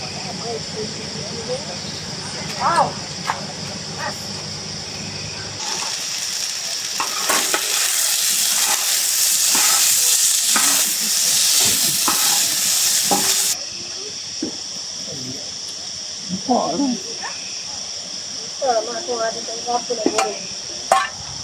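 Rice fries in a pan at a family campsite retreat, with stirring scrapes and clinks, a loud steady sizzle swelling in the middle stretch, and people chatting over the cooking.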